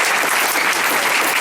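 A church congregation at a ministry gathering bursts into loud, dense applause, with many hands clapping together in a continuous, even roar that lasts the whole brief moment.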